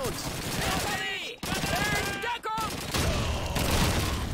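Gunfire in Call of Duty 2, a dense fusillade of rifle and machine-gun shots with booming bursts, loud and nearly continuous, broken by brief gaps.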